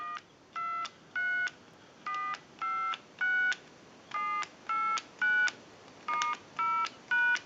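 Touch-tone dialing on a Northwestern Bell Trimline telephone, a series of about a dozen distinct DTMF beeps in a steady rhythm, each short and clear, with quiet gaps between them and no talking.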